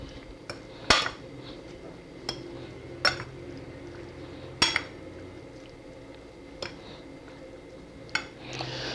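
A utensil stirs salmon tartare with pepper in a bowl, giving sparse sharp clinks and taps against the dish at irregular intervals over a quiet background.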